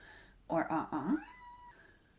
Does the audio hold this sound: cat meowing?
yes